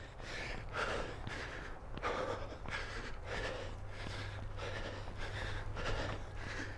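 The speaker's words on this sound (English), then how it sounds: "I'm breathing hard." Heavy, rapid breathing after a running workout, repeated gasps and exhalations in a steady rhythm close to the microphone, with a constant low hum underneath and no talking.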